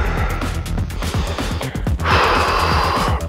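A deep breath taken before a bodyweight functional workout, a strong airy inhale near the end, heard over a steady rhythmic thumping background.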